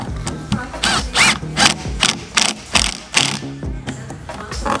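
Ratcheting hand-tool clicks tighten a hose clamp on the S&B cold air intake of a Jeep Wrangler JL, a rapid series of close, loud metallic bursts in an uneven rhythm with no talking.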